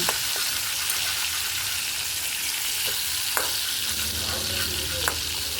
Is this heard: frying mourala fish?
yes